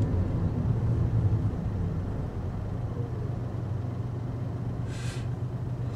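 A Honda N-BOX Custom turbo kei car pulls away from low speed, a steady low engine drone and road rumble holding evenly throughout, with a brief higher whoosh near the end.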